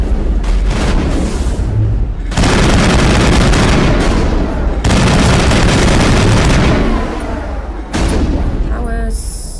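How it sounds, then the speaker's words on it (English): An assault rifle fires in the Mass Effect video game, long loud sustained bursts of rapid gunfire separated by brief pauses, with a few electronic game tones at the end. "Assault rifle, always assault rifle."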